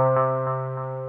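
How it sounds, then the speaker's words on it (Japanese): Electric guitar runs through an Ibanez ADMINI analog delay pedal with blend turned fully up, a sustained tone with soft repeating echo pulses, close and alone. "返ってくる音をですね、跳ね返ってくるディレイ音のボリュームが上がります。"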